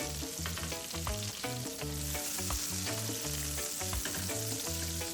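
Butter melting in a frying pan over medium-low heat for garlic shrimp, a steady close sizzle with light stirring and crackling, continuous and unbroken, with no speech.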